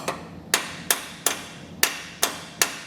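Firm metal taps strike the bottom of a bracket while installing Firestone Ride-Rite Red Label Extreme Duty air helper springs on a 2024 vehicle: about seven evenly spaced, sharp knocks close by, with no talking.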